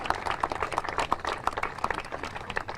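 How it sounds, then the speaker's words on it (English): A news conference audience at the Wayman Palmer YMCA in Toledo claps steadily for a few seconds, a dense, even patter of many hands heard at a moderate distance without voices. "you can go ahead and clap for that"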